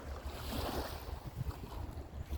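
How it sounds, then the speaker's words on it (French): Waves wash continuously over shoreline stones, a steady rolling surge with low churning rumble and wind buffeting the microphone, close and fairly loud throughout. "Chaque pierre est déplacée à toutes les vagues."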